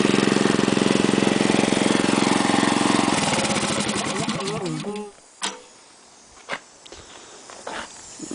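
A 5 hp Honda engine on a Craftsman air compressor runs loud and steady, then slows and sputters to a stop, followed by a few scattered clunks and knocks in near silence.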